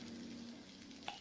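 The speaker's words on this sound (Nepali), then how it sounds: "हाम्रो गुन्द्रुक मजाले भुटिसकेको छ" Gundruk (fermented leafy greens) with boiled potatoes frying in a pan, a soft continuous sizzle with a light clink of a spoon near the end.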